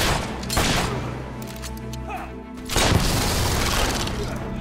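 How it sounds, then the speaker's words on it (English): Gunfire and explosive booms in the video game Fable III arrive as loud, close bursts at the start and again near the end, with shouted voices between them. "We're under fire! Keep your heads down, boys!"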